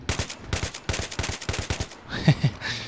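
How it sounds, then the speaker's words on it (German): Rapid bursts of gunfire in Battlefield 3 crackle in quick succession, a near, loud string of about a dozen shots followed by a couple of heavier reports. "Okay, ich höre hier Schüsse."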